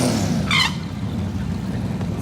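Loud, close roar of a drag car's engine during a tire-spinning burnout on new radials, with a brief squealing burst early on over the sustained engine drone.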